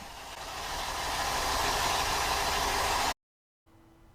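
A Mercruiser boat engine is run during winterizing while it draws antifreeze through the raw water system. Its loud, steady roar builds and holds for about three seconds, then cuts off abruptly, followed by a faint low hum.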